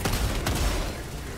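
A single loud, booming incendiary shotgun blast in Helldivers 2, followed by a rumbling decay.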